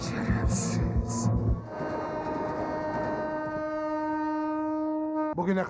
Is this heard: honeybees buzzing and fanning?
no